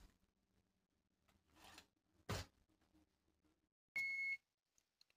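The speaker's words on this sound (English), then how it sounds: "Okay, guys, that's beeping." An oven timer gives a short, clear electronic beep after quiet kitchen rustling and a brief scrape, followed by a couple of faint ticks.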